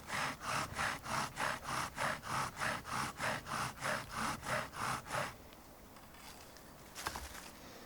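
Rhythmic back-and-forth grinding of a bow drill spindle burning a socket into a wooden fireboard, about a dozen even strokes close up, then the rasping stops and only faint rustling remains.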